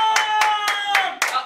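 Five sharp hand claps in a steady, evenly spaced rhythm, close and loud, with a bright ringing tone held beneath them, played as a clapping quiz.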